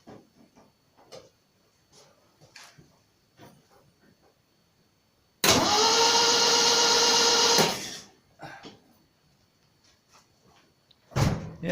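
A Simca Aronde Plein Ciel engine cranks on its starter in one loud, steady burst of about two and a half seconds. It stops abruptly and does not catch, with quiet clicks and small knocks before and after.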